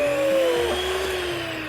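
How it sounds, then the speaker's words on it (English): Electric whisk whirring as it whips cream with vanilla extract, a loud steady motor whine that dips slightly in pitch partway through, close and without speech. "get your electric whisk"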